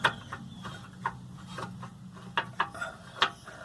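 A long 18 mm socket works loose a stubborn lower control arm bolt on a 2009 Ford Flex, giving faint scattered metallic clicks and ratcheting ticks over a quiet background.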